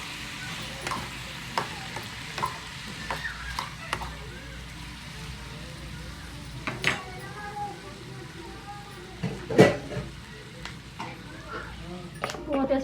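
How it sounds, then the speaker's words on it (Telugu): Yellow cucumber chutney simmering on a low flame in a pan, a soft steady sizzle with occasional stirring clinks and scrapes, while a person talks over it. "సిమ్లో పెట్టేసి బాగా మగ్గించుకోవాలి ఇప్పుడు"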